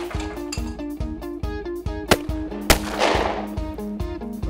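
Two sharp shotgun blasts at a shooting range in the hills, spaced about half a second apart, each cutting through a loud, repetitive musical backing.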